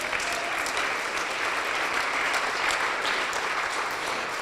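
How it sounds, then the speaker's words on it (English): An event audience gives continuous, even applause, with many hands clapping at a steady, fairly loud level from start to finish and no speech over it. "Come on, clap it up"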